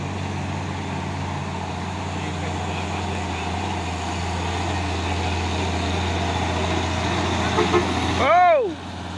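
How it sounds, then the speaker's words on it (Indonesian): A FAW trailer truck hauling an isotank rumbles past on the road with a steady, loud engine drone, ending in a brief wavering horn blast, with voices faintly present. "Ada juga truk trailer dari arah atas membawa apa ini, isoteng FAW."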